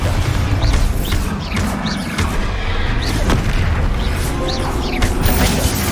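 Bombarda spell blasts in Hogwarts Legacy: loud, dense booms and crashing impacts merge into a continuous roar of combat, with brief magical whooshes and clanks repeating every second or so.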